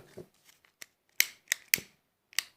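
Scissors snipping crochet yarn, several sharp close clicks in an irregular rhythm, each cut crisp and brief, with faint handling sounds between and no talking.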